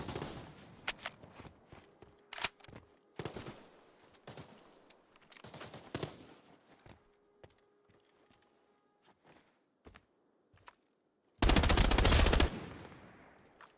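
Gunfire in a shooter video game, with scattered single shots, short bursts and footstep-like clatter, ending in one loud, dense burst of rapid fire near the close.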